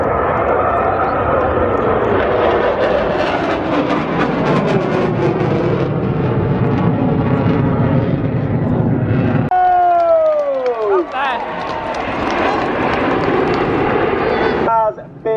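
Jet aircraft making a high-speed pass at an air show in Eastbourne, a loud broad roar through the first half that cuts off sharply, followed by quieter tonal whine and crowd or commentary sounds.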